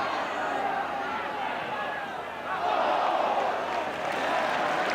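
Football crowd at a Swindon Town versus Southampton match, a sustained roar of cheering that swells midway, heard beneath a commentator's voice.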